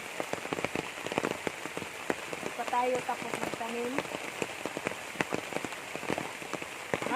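Steady heavy rain drums on a surface with dense patters and drips while a person speaks over it, in an outdoor planting setting.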